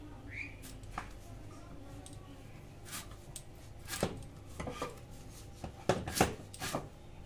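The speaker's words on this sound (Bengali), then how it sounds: "এঁচড়টা কেটে নিচ্ছি" A small raw jackfruit being cut with a knife by hands rubbed with mustard oil. Irregular, close, sharp cutting and scraping knocks come one after another, with a few louder strokes near the end.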